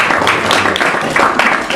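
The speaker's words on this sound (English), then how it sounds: "By applause, painting." Audience applause in a live comedy show crowd, a dense, steady spatter of clapping that fills the room at close range and holds its level throughout with no voices over it.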